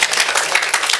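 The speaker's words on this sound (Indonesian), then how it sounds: "Ada tepuk tangan dulu yang meriah buat Tuhan kita" Loud, close applause from a church congregation praising God, many hands clapping in a dense, lively burst with faint cheering mixed in.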